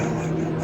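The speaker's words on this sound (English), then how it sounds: "it's very distracting, the aeroplane" An aeroplane flies overhead on a countryside footpath walk, a steady droning engine hum with a low tonal note, loud and unbroken through the brief moment, with no voices.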